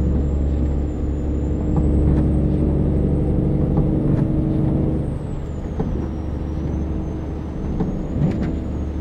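A truck passes on a snowy road with a loud hiss of air brakes over the steady roar and whir of traffic heard from inside a moving vehicle, a tonal whine drifting above throughout.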